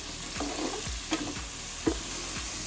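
Vegetables sauteing in bacon fat and butter in a pan for bacon clam chowder, with a steady close sizzle broken by regular spoon stirs and scrapes about every half second.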